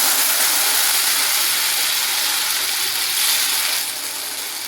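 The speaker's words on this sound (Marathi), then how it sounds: "आता आपण डोसा टाकून घेऊ" Steady bright hiss of batter sizzling on a hot griddle, loud and continuous, swelling slightly near the end.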